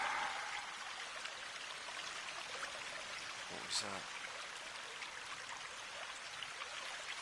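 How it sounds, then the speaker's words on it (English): Steady broadband rush of a waterfall in the survival video game The Forest, flowing continuously at a fairly quiet level, with someone speaking briefly over it. "It must be the waterfall."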